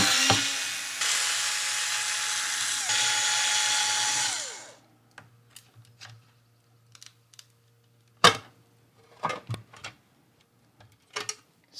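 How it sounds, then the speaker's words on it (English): Screws being undone during a teardown of a PS5 Pro console: several seconds of steady whirring from a driver, then scattered small clicks, taps and rattles of screws and parts, close and without talk. "let's undo all of these 100 million screws"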